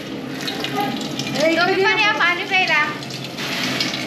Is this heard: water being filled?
yes